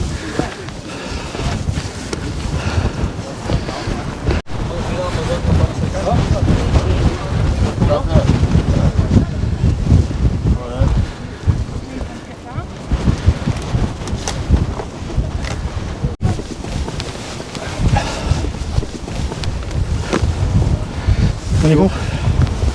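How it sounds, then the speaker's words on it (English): Wind in Holyrood Park, Edinburgh buffets the microphone in loud, uneven gusts that rumble and surge for the whole stretch, with occasional sharp knocks. "So it's going to bring us out into the wind."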